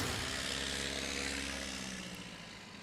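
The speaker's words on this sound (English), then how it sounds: "Here's Joe Dory, 206 on his takeoff." A Cessna 206 light aircraft taking off at a STOL competition at Ontario Municipal Airport, a steady loud propeller and engine roar that fades slightly as it climbs away, with no talking.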